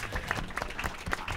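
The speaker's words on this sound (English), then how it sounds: "let's get a round of applause" A crowd applauds a musicians' panel at Canterlot Gardens in one short, steady burst of clapping with no speech over it.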